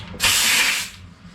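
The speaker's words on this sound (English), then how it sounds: "with the DA with a little 80 grit action on it. Let's start sanding this." A short, loud burst of hissing, abrasive noise from a dual action sander with 80 grit paper on a 1949 Jeep Willys pickup body, lasting under a second before tapering off.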